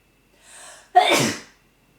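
A single sharp sneeze, preceded by a brief breathy inhale, loud and close, then silence.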